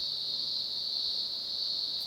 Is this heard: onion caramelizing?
no